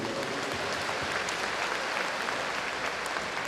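A large congregation at a citywide church revival rally in Yongin claps together, a dense, steady roar of applause filling the hall at full loudness with no speech over it.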